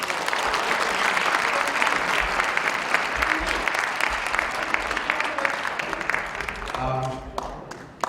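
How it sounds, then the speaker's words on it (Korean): Sustained applause fills a church denomination's general assembly hall as members endorse a nomination, steady and dense for most of the stretch before thinning near the end, with a voice briefly audible as it fades. "박수로 추대해 주시기 바랍니다."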